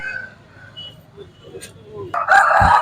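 A rooster crows loudly near the end at a country chicken market in Anantapur, a bright harmonic call rising over low background murmur and faint voices.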